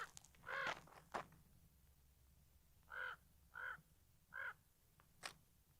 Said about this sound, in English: The morning crow.